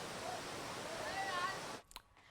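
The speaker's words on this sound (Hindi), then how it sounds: "झरना चलने लगा है।" Waterfall at a reservoir spillway flowing after heavy monsoon rain, a dense steady rush of water heard close for most of the moment before it cuts off abruptly.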